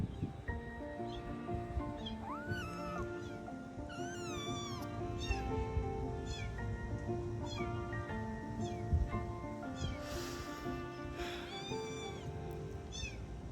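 A kitten meows repeatedly in high, rising cries over a steady background of birdsong and outdoor ambience.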